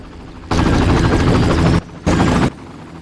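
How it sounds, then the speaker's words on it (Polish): Loud, dense rotor thumping of a helicopter in Far Cry, roaring steadily, cutting off briefly, then returning for a shorter burst before stopping. "No i mamy helikopter."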